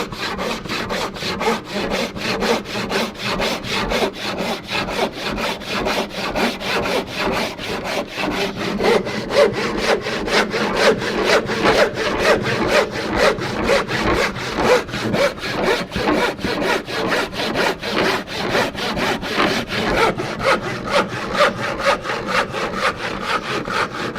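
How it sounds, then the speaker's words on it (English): A hand panel saw cutting through wood at a workbench, loud and close, with a fast, even rhythm of long rasping strokes that continues without pause. "when I'm working at the bench with a panel saw, I'll definitely start up at the back teeth and then go into using longer strokes"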